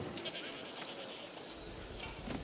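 Goats bleating in the video game A Plague Tale Requiem, a few short wavering bleats over a soft ambient game backdrop, moderately close and fairly quiet.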